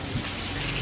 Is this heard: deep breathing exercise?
no